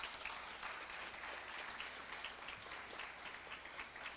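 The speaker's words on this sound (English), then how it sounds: "So please, let us give her another round of applause." Applause from a film festival audience in Belize, a dense, continuous patter of many hands, fairly faint and distant, with no talking.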